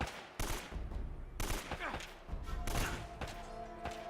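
Bursts of AK rifle fire from the video game Uncharted crack out in several rapid volleys with gaps between them, mixed with thumps and impacts, at a fairly quiet overall level.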